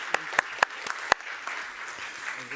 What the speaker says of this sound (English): please help me give a round of applause to our panelists